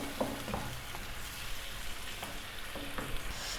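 Chicken and potatoes frying in yogurt for biryani over a high flame, a moderate steady bubbling sizzle with occasional spoon taps and stirring scrapes, close and fairly quiet.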